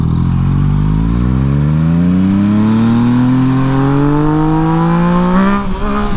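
A Yamaha MT-09 motorcycle engine revs loudly up close, its tone climbing steadily for several seconds before a sharp throttle blip and drop near the end.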